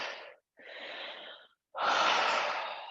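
Slow, steady breaths taken while standing still in yoga mountain pose, close and clear: a long airy exhale, a short pause, another breath, then a fuller, louder inhale, with no talking.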